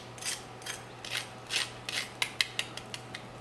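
Crunchy roasted chicken skin being cut, giving a series of crisp crackling bursts that start soft and spaced, then turn into sharper, louder snaps near the end, close and alone with no talking.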